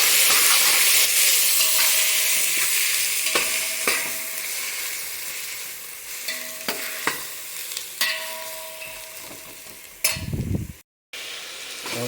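Ginger paste frying in a pan for Kashmiri mutton biryani, starting as a loud hissing sizzle that slowly fades, broken by repeated sharp stirring scrapes, then a brief burst of noise before cutting out.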